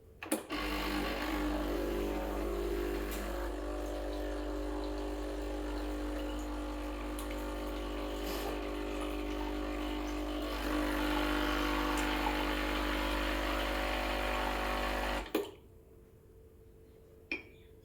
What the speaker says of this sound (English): blank shot is basically just running hot water through the system just to warm things up